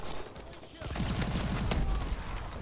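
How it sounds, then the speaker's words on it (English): Rapid automatic gunfire in a video game: a dense, sustained burst of close shots after a brief quieter start, with a voice speaking over it. "Dude, playing with this gun is so ridiculous."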